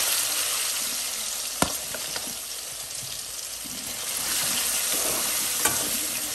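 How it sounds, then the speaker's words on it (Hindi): Paneer frying in a pan gives a steady, close sizzle and hiss throughout, with a couple of sharp clicks or taps from stirring and no talking. "ज़्यादा भी फ्राई ना करें नहीं तो पनीर टाइट हो जाता है।"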